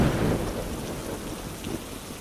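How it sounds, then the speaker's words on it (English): Steady rain falls outdoors with a low rumble of thunder rolling underneath, a soft and even wash of drops without any voices. "The rain outside continued to fall, a soft, steady weeping."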